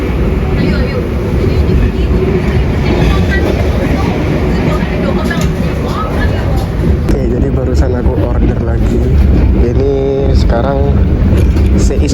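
Continuous rumble and clatter of an Argo passenger train in motion on Java's southern line near Kutoarjo station, heard from inside, with voices talking intermittently over the steady rolling noise.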